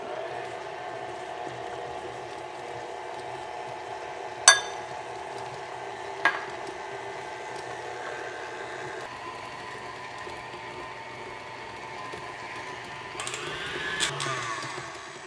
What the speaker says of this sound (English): put this mixer down, lock it into place, and start to mix this up